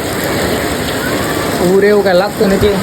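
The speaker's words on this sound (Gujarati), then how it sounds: "તમે જોવો વરસાદ હજી આવે છે રાતનો" Steady, dense rain pours down at night outside a village house in Gujarat, a constant close hiss throughout, with a voice talking over it near the end.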